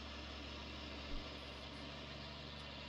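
A tractor engine in the farming game Farming Simulator 19 idles in a low, steady drone, faint and continuous, with no talk.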